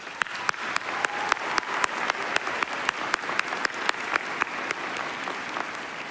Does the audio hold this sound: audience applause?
yes